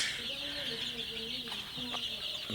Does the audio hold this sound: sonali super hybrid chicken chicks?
yes